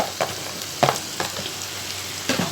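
Vegetables including yellow and red capsicum stir-frying for noodles in a pan, a continuous hiss broken by several clattering spatula strokes at irregular intervals, close and fairly loud with no voices.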